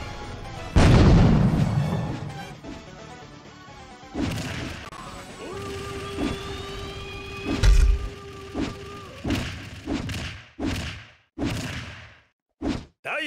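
Bomb blasts in a video game land as heavy booming crashes, one big hit up front and a louder one later, followed by a run of sharp whooshing impacts, with electronic tones humming in between.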